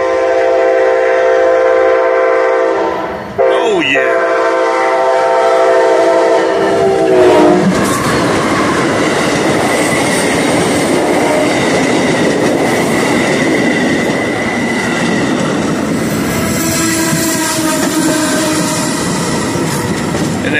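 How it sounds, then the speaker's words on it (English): Amtrak's Silver Star, train 91, pulled by two P-42 locomotives, sounds a loud horn blast, then passes close by at Sebring, Florida, with a heavy sustained rumble and rail clatter that fades gradually. "And the 91 Silver Star is on its way down the long twin silver lines. Here she comes. Two P-42s pulling the load."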